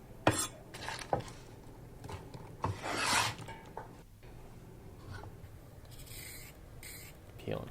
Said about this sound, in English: Peeling carrots.